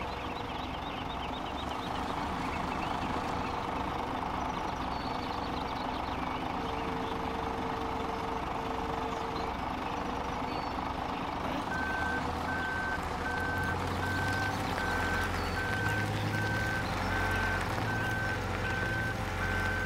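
Truck idling in the Farming Simulator 17 video game during logging work, a low steady engine rumble with a repeating reversing beep joining partway through, no speech.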